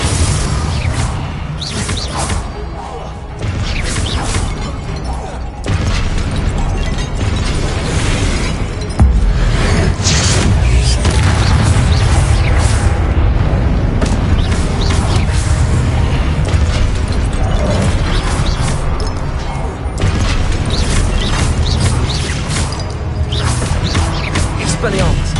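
Confringo explosive spell blasts in the Hogwarts Legacy video game, dense and continuous combat noise with bursts, booms and crashes piling up over busy game music and effects for the whole stretch, loud and close.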